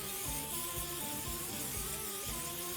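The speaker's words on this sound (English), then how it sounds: "I'm gonna go ahead and spray these grates again." A steady, soft hiss of spray onto Weber kettle grill grates runs without a break for a few seconds, fairly quiet and close.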